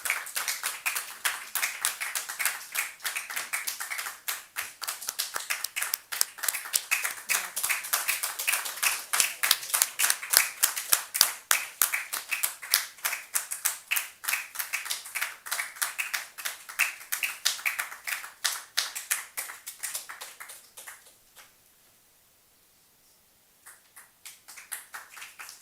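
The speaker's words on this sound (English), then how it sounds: "please give a huge round of applause" An audience applauds at the inauguration of an early career chair at IIT Madras, a long run of crisp, rapid hand claps that holds steady for about twenty seconds, fades to near silence, then briefly picks up again.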